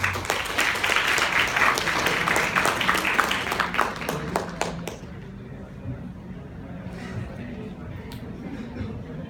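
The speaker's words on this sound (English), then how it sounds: "Clap for him." An audience at a talk on goal-setting claps loudly and densely for about five seconds, then the applause thins to a few scattered claps beneath murmuring voices and a speaker beginning to talk.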